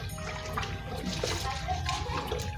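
Water splashes and sloshes steadily while something is scrubbed and washed by hand outdoors, a continuous wet churning with no clear pauses.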